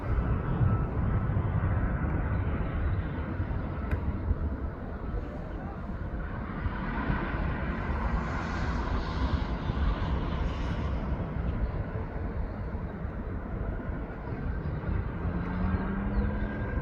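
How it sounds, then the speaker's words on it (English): A TUI airliner taxis toward the runway at East Midlands Airport, its engines giving a steady, broad roar that holds level throughout at moderate distance, with no voices over it. "The Tui it's going down to I reckon is now making his way up towards the runway"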